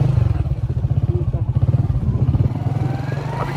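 A motorcycle rumbles along a rough, rocky path by a mountain lake, its engine thumping in a fast, steady pulse close by, with clattering from the bumpy ground.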